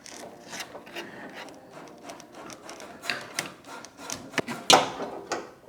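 A Partner P12107 mower deck cable wire pushed up through its housing, giving scratchy, intermittent rubbing and rasping with a few sharper scrapes toward the end, close up and without talk.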